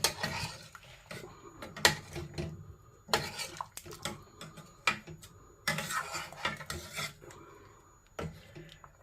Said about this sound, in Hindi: मैं इसको अब चलाती हूँ ताकि दही फटे ना